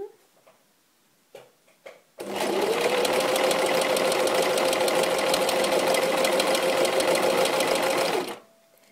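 Domestic sewing machine stitching a garment top: a steady, loud, rapid mechanical ticking hum runs continuously for about six seconds after a few faint handling clicks, then stops abruptly.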